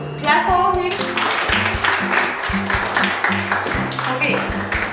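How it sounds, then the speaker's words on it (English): Children in a classroom clapping together for a classmate, brisk scattered claps running throughout, mixed with overlapping voices and talking. "Clap for him."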